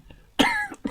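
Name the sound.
cough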